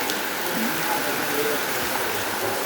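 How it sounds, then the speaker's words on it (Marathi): Heavy rain pours down in a dense, constant hiss of drops on surfaces, loud and close and unbroken, with no clear talk over it. "पाऊस पडतोय खतरनाक वाला"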